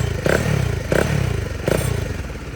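Bajaj Dominar 400 UG2 motorcycle with a Zeus exhaust and silencer fitted, its engine running at close range in a loud, steady idle with three short rev blips.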